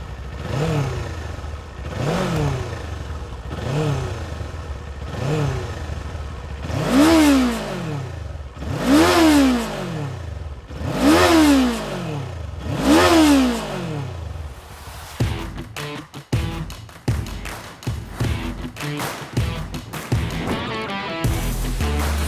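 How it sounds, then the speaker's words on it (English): A 2024 Kawasaki Eliminator motorcycle engine revs up again and again in long rising-and-falling swells, its exhaust note loud and close, then settles into a rough idle with clatter. "let me crank up the engine for you to listen to its exhaust note"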